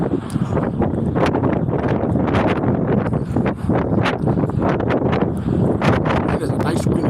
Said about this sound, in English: It is a nice windy night.